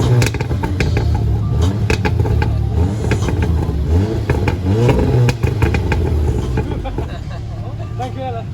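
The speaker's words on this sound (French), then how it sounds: "Donc le bruit que vous avez entendu c'était une Golf R." Volkswagen Golf R revving as it drives past on a street in a wealthy neighbourhood, a loud rising and falling engine note with sweeping pitch changes over steady road noise.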